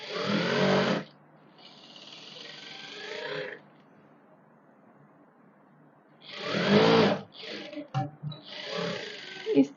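A sewing machine stitching a kaftan seam runs in short loud bursts with a quiet pause between them, then resumes in choppy stop-start runs, close up.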